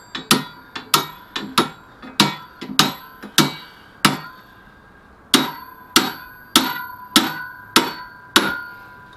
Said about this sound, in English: You have to hammer it in.